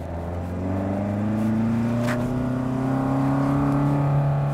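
A boxy BMW 2002 with its engine canted over 30 degrees is driven around Signal Hill in Southern California, its four-cylinder revving steadily under acceleration, heard loud and close from inside with rising engine tones and no talk.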